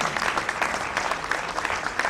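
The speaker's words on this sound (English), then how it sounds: "Please give him a round of applause." Applause from an audience at a lifetime achievement award ceremony, a steady, dense clapping throughout at moderate loudness.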